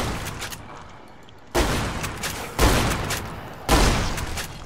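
Gunshots in Fallout New Vegas: three sharp, loud reports about a second apart, each with a short rumbling tail, over a steady low game background.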